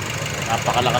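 A 2020 Nissan Terra engine running with its oil filler cap off, a steady, rough idle with strong blow-by puffing, close by and mixed with someone talking over it.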